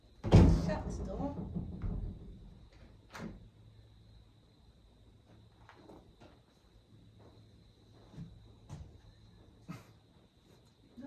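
The door of a horse trailer being converted into a camper is shut with one loud, heavy thud, followed by quiet and a few faint knocks and taps.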